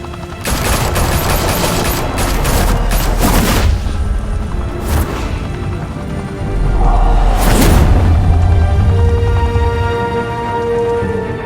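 A heavy gunfire volley in the Batman Telltale video game: dense, loud rapid bursts of shots with booming impacts, pausing and surging again over about eleven seconds with no talk.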